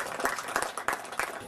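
A small crowd gives brisk, uneven clapping for an angler at a bream fishing tournament weigh-in on Lake Macquarie. The short burst of applause is mid-distance, with a few louder claps standing out.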